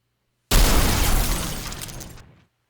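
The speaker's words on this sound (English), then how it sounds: "Destroyed explosion. This is when you destroy the spider." A spider bot's destruction in a video game sets off a single loud, crunching explosion with a shattering edge that bursts suddenly and decays over about two seconds, heard alone.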